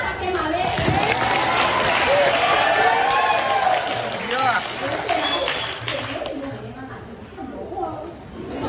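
An audience claps during a classical Arja performance by the Ghana Swara community at the 2023 Bali Arts Festival, a busy spell of clapping mixed with voices talking and calling over it, tapering off toward the end.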